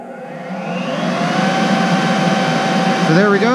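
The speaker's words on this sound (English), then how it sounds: "So there we go, the blower's running." The air blower for a ribbon burner forge with a proof-of-air safety system runs with a loud, steady rushing whir that builds slightly and holds, close up, with a voice speaking over it near the end.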